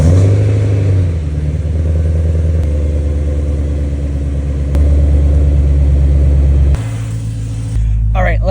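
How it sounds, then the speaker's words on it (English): A BMW M3 engine idling high after a cold start, a loud steady mid-range drone with pitch steps as the idle settles, close by, with no talk over it. "First, you gotta get a cold start on the M3."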